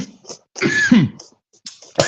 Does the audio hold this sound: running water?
no